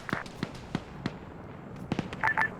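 Gunfire in a military video game set around a Russian private military company operation: sharp, isolated shots crack out one at a time at irregular intervals, a handful of reports over a couple of seconds with a faint background between them.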